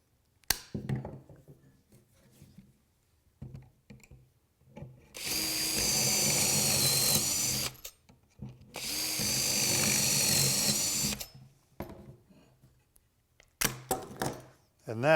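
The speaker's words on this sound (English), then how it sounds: "I've got my pocket hole jig here, and we're going to drill a couple of pocket holes into this piece." Power drill boring pocket holes into a wooden workpiece through a pocket hole jig: two loud sustained whining bursts of a couple of seconds each, separated by a pause, with brief clicks and handling noises around them.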